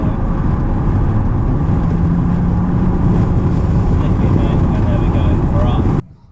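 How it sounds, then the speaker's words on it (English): A sports car roadster in sport mode surges under automatic kickdown, its engine and road roar loud and steady for about six seconds before cutting off abruptly. "we'll stick it into sport, and I'm going to show you automatic kickdown."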